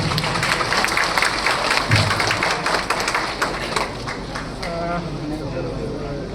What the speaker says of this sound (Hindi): आप अपनी तालियों से बड़े सम्मान के साथ मुख्य अतिथि महोदया को आमंत्रित करें